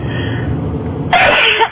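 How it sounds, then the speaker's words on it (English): A single loud sneeze bursts out near the end, after a brief stretch of quiet background. "Excuse me, I have to sneeze."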